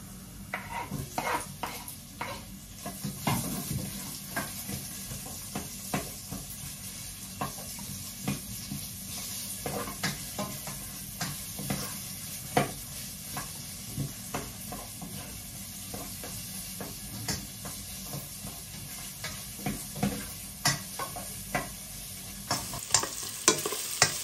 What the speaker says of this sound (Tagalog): So, lagyan na natin yung sibuyas mga kapatid.